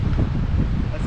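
Gusty wind buffeting the microphone beside a canal during pole and feeder fishing, a steady low rumble with blustery swells throughout.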